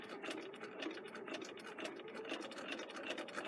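A sewing machine stitching a fabric face mask, with a rapid, even needle chatter running steadily at close range, fairly quiet, without talk.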